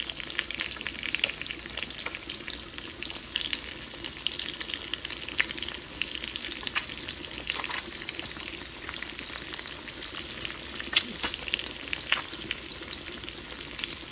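Food frying in a pan after salt and turmeric have been added, a steady close sizzle and crackle with bright hissing texture running unbroken throughout, occasional small pops, no voices.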